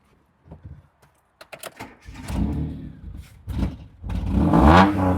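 A propane-fuelled car's engine revs up close in rising, swelling bursts after a few faint clicks, growing louder toward the end.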